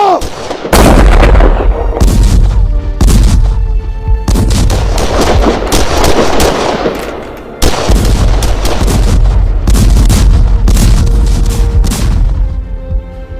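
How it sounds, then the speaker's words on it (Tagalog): Cannons fire on the enemy in a Tejeros Convention–era Philippine revolutionary battle scene: a barrage of loud, close booms and blasts rolls on almost without pause, with brief gaps between volleys. "Tutok ang mga kanyon sa mga kalaban! Fuego!"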